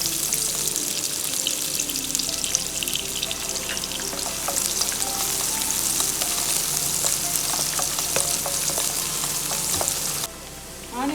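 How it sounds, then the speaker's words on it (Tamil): Chopped onion sautéing in hot oil for chicken fried rice, a steady close sizzle with scattered stirring clicks and scrapes, continuous and fairly loud with no talking, easing off briefly near the end. "ஆனியன் வந்து ரொம்பலாம் வதங்க தேவையில்லை"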